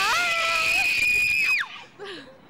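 A fan outside the Jingle Ball concert screams loudly, a sustained high-pitched scream held for over a second, then breaking into shorter, quieter shrieks and squeals.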